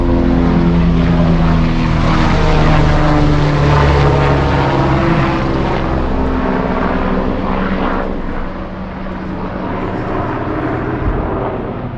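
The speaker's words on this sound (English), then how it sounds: "Don't mind the helicopter going over." A rescue helicopter passes overhead in a hurry, a loud, steady engine drone with rhythmic thrumming, swelling and then slowly fading over about twelve seconds.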